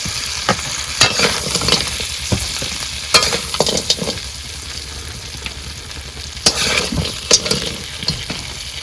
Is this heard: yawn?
no